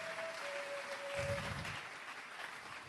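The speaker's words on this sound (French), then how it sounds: "Acclamons très fort" A church congregation applauding, a soft steady patter of clapping from a distant crowd, with a faint tone fading out early, no talk.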